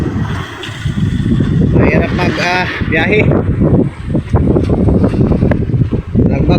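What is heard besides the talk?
strong wind at sea on a boat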